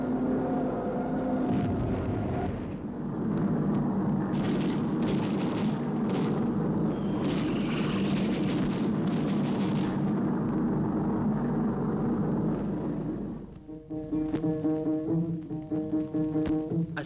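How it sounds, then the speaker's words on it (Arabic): Bombs dropped by warplanes exploding during an air raid: a loud, sustained roar of blasts and rumbling that continues for many seconds before dropping off briefly near the end. No voices. "وراءها طائرات أخرى تلقي قنابلها."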